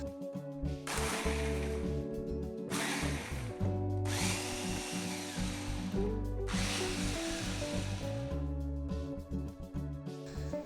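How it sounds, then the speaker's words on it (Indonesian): Electric food chopper grinding dried shrimp, turmeric and water into rawon spice paste, a loud whirring motor running in three bursts with short pauses between, no talk. "Blender hingga halus"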